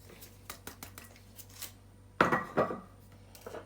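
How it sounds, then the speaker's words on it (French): Kitchen clatter as spices go into a salad bowl: faint small clicks and taps, then two sharper ringing knocks of the bowl being set down and handled, close and without talk. "je vais prendre ce saladier, je vais mettre les épices"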